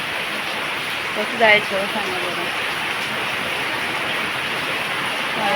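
Rain falling with wind makes a steady, even wash of noise throughout, and someone speaks briefly over it partway through.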